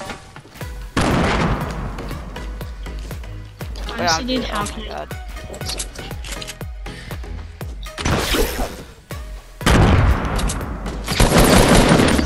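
Bursts of rapid gunfire and crashing explosions from a video game, loud and repeated, with a person talking excitedly over the action.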